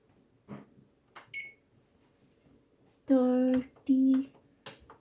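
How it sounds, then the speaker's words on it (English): An oven timer beeps twice, a pair of loud electronic tones in close succession, with soft kitchen handling noises and faint clicks from button presses before them. "I'm gonna set the timer for"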